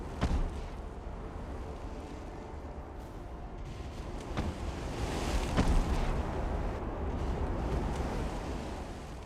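Naval guns fire armor-piercing rounds at short range in a video game, with a few booming blasts over a steady rumbling background.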